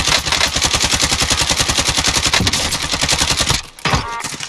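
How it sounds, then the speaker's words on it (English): Rapid automatic gunfire crackles through a first-person shooter match, loud and nearly continuous, with dense bursts running for several seconds before a brief gap and more shots. "I hear the shots, I hear the shot."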